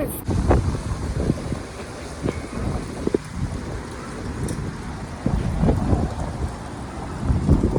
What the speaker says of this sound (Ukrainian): зараз поки що в нас оце перше таке типу прохолодний вітер